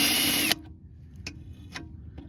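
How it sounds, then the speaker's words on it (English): Half a second of loud, high-pitched power drill whine boring the rivet head off an oil pump gasket on a 2008 Silverado 4x4 5.3, which stops abruptly, followed by a few faint taps. "you just gotta drill the top of it off to pop it loose"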